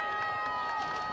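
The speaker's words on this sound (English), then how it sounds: "This Eisenhower crowd is feeling it. They're loving what they're seeing." Crowd at a high school football district semifinal, Eisenhower Eagles against Romeo Bulldogs, cheering steadily in a big outdoor roar, with no break in the noise through the moment.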